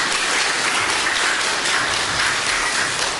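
A church congregation applauds a new flute player joining the string team, a dense, steady wash of many hands clapping at even loudness for about three seconds, with no voices above it.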